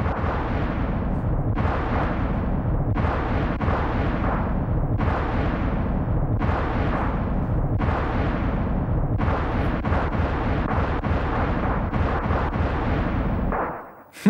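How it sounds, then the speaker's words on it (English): Explosions during a boss fight in the video game Secret of Evermore, a long chain of loud booming blasts in rapid succession, each fading into the next, continuing for over ten seconds before cutting off. "I love how they exaggerate with explosions."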